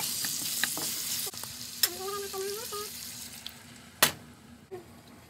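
Garlic, onion and tomato sauté in a pan with a soft, fairly quiet sizzle, punctuated by spoon scrapes and a couple of sharp knocks, with a brief voice-like sound in the middle.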